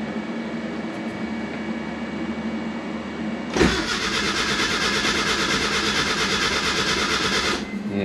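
A Mazda Miata fitted with GT500 injectors cranks on its first start attempt, a loud whirring burst that rises suddenly after a quiet stretch, runs for about four seconds and then cuts off.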